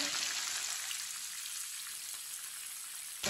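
Chicken pieces fry in hot oil for Hyderabadi chicken biryani, giving a steady, close, bright sizzle and crackle with no talk, ending in a brief thump.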